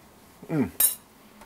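A spoon scrapes and clinks against a pot of thickened coq au vin sauce, one short drawn stroke followed by a sharp metallic clink, close and fairly quiet.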